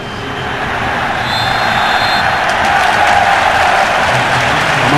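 Internacional supporters roar at a nearly full Beira-Rio stadium during a Copa do Brasil match, a steady loud crowd wash that swells slightly, with faint whistles and chants rising within it.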